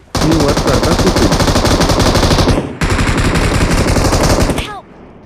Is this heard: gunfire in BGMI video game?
yes